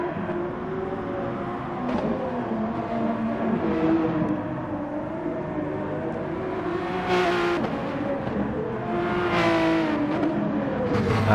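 Engine of a Pagani Zonda race car in a racing video game, a continuous loud, rising and falling roar with gear changes and revving as other cars race alongside.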